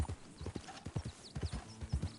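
Horse hooves clip-clop in Red Dead Online, a quick, regular gait of close, fairly quiet hoofbeats. A faint whinny and light background noise sit beneath them, and no one speaks.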